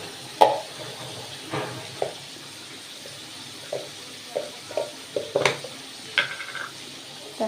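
Unfried whole potatoes with Kashmiri chilli powder stir-fried in a pan: a soft continuous sizzle under a series of irregular scraping and knocking strokes of a spatula against the pan, close and fairly loud.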